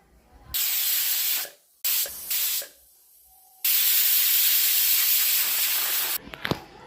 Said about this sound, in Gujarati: તો આપણા કુકરમાં ત્રણ સીટી આવી ગઈ છે